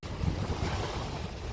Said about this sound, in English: if you love the sound of the ocean